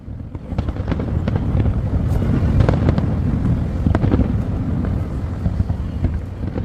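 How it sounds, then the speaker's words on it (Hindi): A fireworks display in Boston crackles and booms continuously, dense overlapping bursts and rumbling low thuds with sharp pops on top, loud and sustained throughout. "बॉस्टन में भी जो आतिशबाजी हुई वो जबरदस्त थी।"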